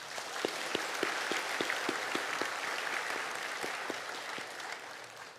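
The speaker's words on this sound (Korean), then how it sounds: "우리 잠시 격려의 박수 한번 했으면 좋겠습니다" A church congregation at a Sunday worship service applauds in encouragement for the church-school teachers, a steady crowd clapping with a few sharper individual claps standing out, sustained and fairly even for the whole stretch.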